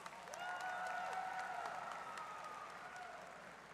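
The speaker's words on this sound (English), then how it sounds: "Please give them a round of applause." A crowd at a university commencement ceremony applauds, a steady wash of clapping heard at a distance, fairly faint, lasting the whole moment.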